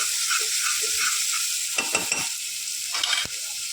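Chopped onion sizzles in hot ghee in a pan, a loud steady frying hiss broken by a few scraping strokes of a spoon stirring it, close and without talk.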